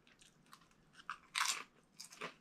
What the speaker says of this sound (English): I like this carrot fries.